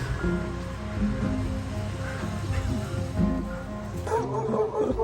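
A stray dog barks a few times in the distance over steady outdoor noise and surf-like rumble, with brief human voices mixed in.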